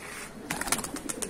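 A pigeon coos softly over quiet background murmur in a brief, low rolling call lasting about a second.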